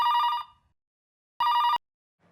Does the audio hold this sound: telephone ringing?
yes